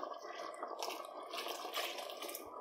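Water pours from a cup into a mixer jar to rinse it, a steady close splashing and trickling that continues throughout at moderate level.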